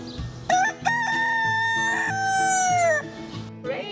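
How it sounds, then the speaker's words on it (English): A rooster crows once in a long, clear call with a rising then falling pitch, loud and close, set against light background music and small sound effects from a children's surprise-egg animal game. "it's a rooster."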